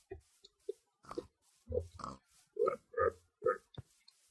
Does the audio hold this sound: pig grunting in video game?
yes